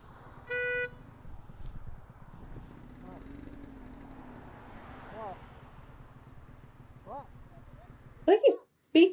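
A car horn sounds in traffic, with a short steady honk early on and more sharp bursts at the end, over a constant engine and road rumble while people talk.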